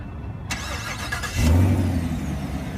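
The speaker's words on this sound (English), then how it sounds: "press and hold the engine start button to start." A Chevrolet Camaro SS V8 engine starting from the key fob: a short mechanical whir, then the engine catches with a deep low rumble and settles into a steady idle, heard up close.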